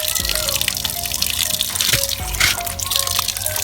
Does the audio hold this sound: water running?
yes